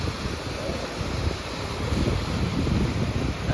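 Sea waves wash onto a beach in a steady, close rush of surf, mixed with gusty wind buffeting the microphone.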